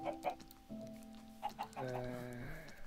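Chickens cluck in the Minecraft video game, a few short game clucks sounding close alongside steady musical game tones and other in-game noises.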